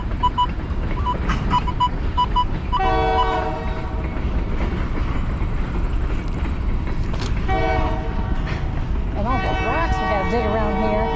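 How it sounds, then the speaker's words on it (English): Loud passing train with continuous rolling rumble and clatter of railcars, punctuated by three long horn blasts, one early, one midway and one near the end, while a person talks faintly underneath. "Sorry about the train noise."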